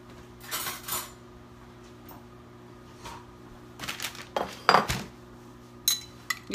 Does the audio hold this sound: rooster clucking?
no